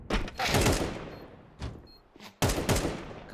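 Counter-Strike gunfire during an ESL Pro League qualifier match comes in sharp bursts, a rapid volley at the start and another near the end, with a single shot between, loud and close with no voices.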